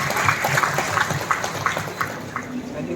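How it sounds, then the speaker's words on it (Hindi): Crowd applause at a bhumi puja groundbreaking ceremony for an oil palm company in Arunachal Pradesh, rhythmic clapping that rises and gradually thins, heard from a distance with outdoor background. "प्रकट करें बहुत ही जोरदार ताली के साथ।"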